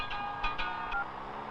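A phone being dialed gives a few short electronic tones, about four quick beeps within a second, faint and close, with a low background hum.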